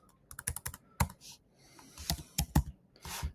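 Someone types on a computer keyboard in quick irregular bursts of sharp, close clicks, with a short pause before a second flurry of keystrokes.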